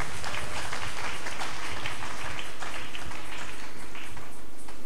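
A French-speaking church congregation acclaims the Lord with loud, close clapping and crowd noise during a service, the sound dense, heavy and continuous for about five seconds.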